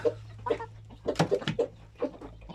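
A hen, mother of an İzmir breed rooster, gives a series of short clucks in irregular bursts, fairly close and moderate in loudness over a low steady background hum.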